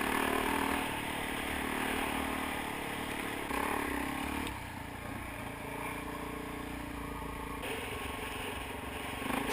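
A KTM 525 dirt bike climbing a small hill, its engine droning steadily at a distance for the whole stretch, with a rougher, busier patch of revving partway through and no voices.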